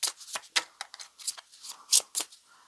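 A deck of oracle cards being shuffled by hand, with irregular bursts of crisp riffling and papery slaps at close range, no voices.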